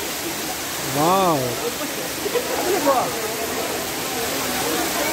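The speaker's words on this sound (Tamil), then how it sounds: "நல்லா விழுது தண்ணி" Broad steady roar of the Courtallam waterfall, close and continuous through the whole stretch, with people talking and calling out over it.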